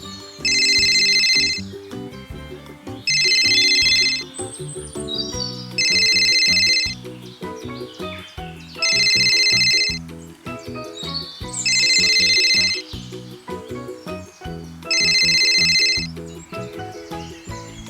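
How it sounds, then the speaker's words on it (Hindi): A telephone rings while calling a friend, a bright electronic ringtone repeating in six regular bursts with short gaps, loud and close, with a soft background tune underneath. "अपने दोस्त को उसने फ़ोन लगाया।"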